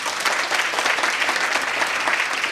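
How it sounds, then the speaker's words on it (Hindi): Loud, dense clapping from an audience at a Hindi motivational talk, a continuous wash of many hands close by with no talk over it. "जब भी हार आए मस्त ताली बजाइए अपने लिए जोरदार बजाइए"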